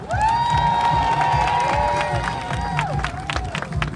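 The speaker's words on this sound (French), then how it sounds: "nous remercions tout le monde et nous applaudissons à tous" Crowd at a Haitian diaspora demonstration in Canada cheering and applauding, a loud continuous roar with whoops and shouts, plus a sustained high whistle or horn tone through the first seconds.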